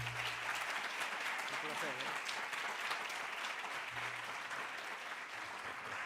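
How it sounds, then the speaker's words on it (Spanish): Steady audience applause fills a lecture hall after an oncology physics talk, dense and sustained throughout, with a brief spoken thank-you underneath. "Un aplauso para el doctor."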